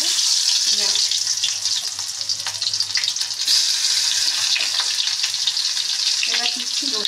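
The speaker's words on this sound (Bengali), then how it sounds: "আমি এর মধ্যে দিয়ে দেবো পেঁয়াজ।" Onion dropped into hot oil in a pan for a shrimp dish, frying with a loud, steady, close sizzle that crackles throughout, joined by faint watery clatter.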